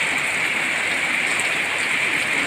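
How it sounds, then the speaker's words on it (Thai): Heavy rain pours down in a dense, unbroken hiss, loud and close, with no voices. "นี่ค่ะฝนตกนะคะ"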